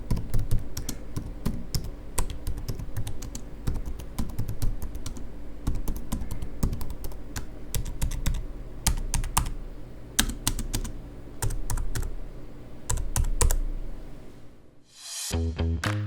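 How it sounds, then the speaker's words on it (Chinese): Typing on the keyboard of an ASUS TUF Gaming A14 laptop, rapid close clicking keystrokes in irregular bursts, alone, ending in a brief different sound. "以下也提供一段键盘收音给大家参考"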